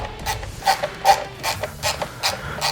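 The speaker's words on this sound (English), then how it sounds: "Once both sides are kind of locked in, then I'll come back around with ratchet" A ratchet clicks in steady rhythmic strokes while tightening gauge bolts on a 2020 Harley-Davidson CVO Road Glide, about seven evenly spaced metallic ratcheting bursts, close and clear with no talk.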